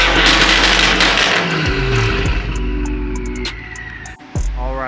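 A BMW M5 LCI engine roars loudly close by in a long, steady drone that dips briefly near the end and then surges back up.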